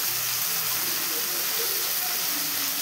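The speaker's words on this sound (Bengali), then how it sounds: "এটাকে দিয়ে ভালো করে ভেজে নেব।" Soaked, drained moong dal frying in oil, a steady dense hiss of sizzling with no pauses, close and fairly loud.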